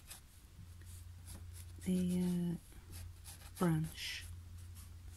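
A Parker cartridge pen loaded with Quink ink sketches a catkin branch on paper, giving soft, scratchy strokes close by under a person's talking.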